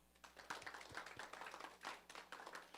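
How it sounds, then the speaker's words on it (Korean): A church congregation at a retreat claps in scattered, uneven strokes, quiet and somewhat distant, with individual hand claps standing out over a soft background hum. "우리 박수 한번 할까요?"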